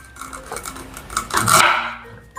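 Fresh ginger being finely chopped with a knife on a board: a quick run of light, close taps and scrapes over about two seconds, building to a denser burst of cutting near the end.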